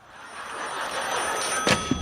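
A telephone rings in a sitcom scene, a short brief ring rising over a steady hiss of room noise, with a faint second burst just after.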